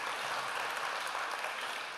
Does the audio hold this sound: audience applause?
yes